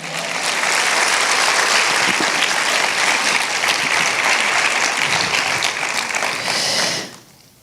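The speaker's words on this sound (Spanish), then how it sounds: "¿Cuántos le dan un aplauso porque llegó Jesús?" Sustained applause from a church congregation fills the space at a steady, dense level for about seven seconds, then fades out abruptly near the end.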